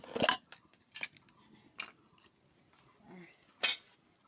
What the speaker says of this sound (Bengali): ঘন্টটুকু মসৃণ করার জন্য ডাল কাটা দিয়ে কেটে নিলাম